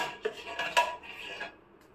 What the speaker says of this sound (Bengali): চিড়েটা ঢেলে দিই